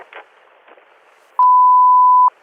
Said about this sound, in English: the phone was off the hook